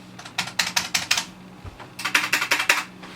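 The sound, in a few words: typing on mechanical keyboard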